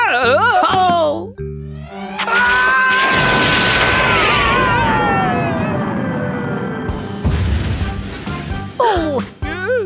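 A cartoon rocket launches with a rising whoosh and a sustained roar, then a falling whistle leads into a crash. Cartoon voices and music sound around it.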